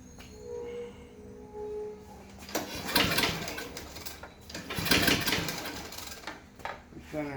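An old Murray go-kart engine sputters and chugs to life in rough, uneven bursts after a quieter idle stretch, running close and choppy with people talking nearby.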